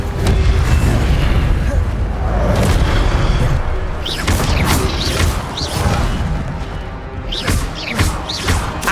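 Incendio fire spells from Hogwarts Legacy burst in loud, rumbling booms amid combat clatter, followed by a run of sharp whooshing casts and crackling impacts, with no talking.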